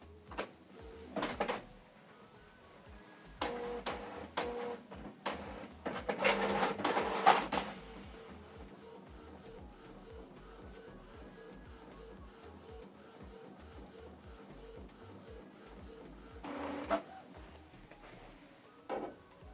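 A Canon Pixma TS7550i inkjet printer printing a photo: clunking paper feed and mechanical whirs early on, a steady rhythmic print-head shuttle in the middle, and a final burst of motor noise near the end.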